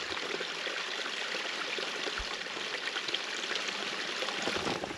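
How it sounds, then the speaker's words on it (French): A small stream in the Jura countryside flows steadily nearby, a continuous close babble and trickle of water with no voices. "je le fais boire parce que c'est un ruisseau."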